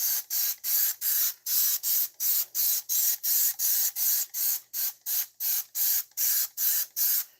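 Cleaner sprays onto engine parts in a long run of about twenty quick, evenly spaced hissing bursts from a trigger sprayer, close and crisp with short gaps between pumps.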